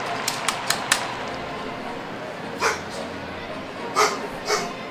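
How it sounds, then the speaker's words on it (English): A dog barks several times, first a quick burst of four sharp barks, then a few more spaced out, fairly close. "My dog's barking."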